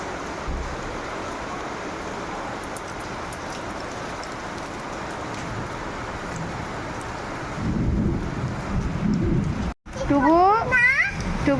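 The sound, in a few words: rain falling with thunder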